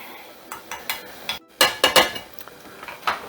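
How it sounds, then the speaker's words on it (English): Mushroom matar malai being stirred in a pan, a spoon scraping and clinking against the metal in a string of close, sharp knocks, busiest toward the middle, with no voice over it. "We're gonna start doing a nice stir."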